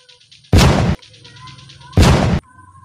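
Toy shotgun sound effect fires twice, two loud bursts about a second and a half apart over a faint electronic hum and beeps.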